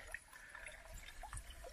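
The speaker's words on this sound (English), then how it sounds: "it's still steadily flowing out of here" Water trickling and gurgling steadily out of a leak, with faint irregular splashes and dribbles close by and no talking.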